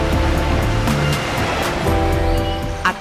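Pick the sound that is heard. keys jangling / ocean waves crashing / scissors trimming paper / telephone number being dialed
ocean waves crashing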